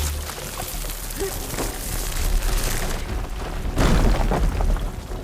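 In the video game Horizon Forbidden West, a fire gleam detonates in a loud, sustained, roaring rumble of crackling fire that swells toward the end, with no voices.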